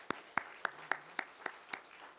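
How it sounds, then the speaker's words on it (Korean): A church congregation in Korea claps for a church member: about seven evenly spaced, sharp claps in a steady rhythm, faint and somewhat distant, with no talking. "우리 박수로 한번 축복합시다"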